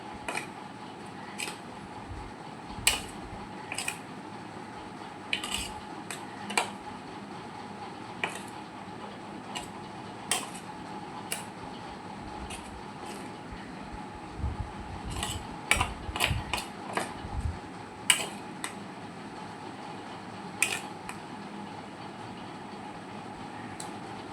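Paneer paratha filling is mixed in a bowl with a spoon, heard as scattered light clinks and scrapes over a low, steady background. No one speaks.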